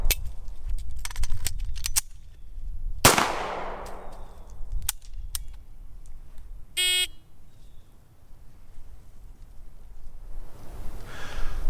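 Several sharp pistol shots from an S&W 5904 during a law enforcement handgun qualification stage at 5 yards, spaced irregularly with one loud close report ringing out, plus a brief electronic beep, outdoors with no talk.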